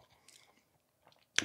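A single crisp bite into a Hong Kong-style egg tart from 85 Bakery with crunchy pastry lands near the end, after quiet mouth sounds.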